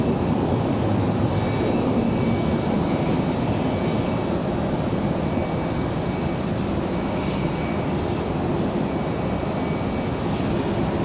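A JetBlue airliner in Boston Celtics livery, arriving from Fort Lauderdale at Raleigh-Durham airport, roars steadily and loudly with a broad, sustained engine rumble for the whole stretch, no voices over it.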